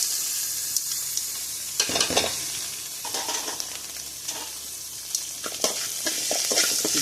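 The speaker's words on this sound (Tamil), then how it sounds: "நல்லா வதங்கிடுச்சு" Drumstick leaves and peanuts sizzle and fry in a pan, with steady crackling broken by scraping stir strokes from a spatula, close up and without any talk.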